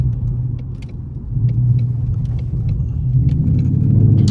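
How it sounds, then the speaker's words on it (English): A 2022 Ford Mustang GT with a 5.0 V8 cruises on a wet rainy day, its deep engine rumble steady and close inside the cabin, swelling slightly as it accelerates, with faint rattles and taps on top. "Let me let y'all hear the car"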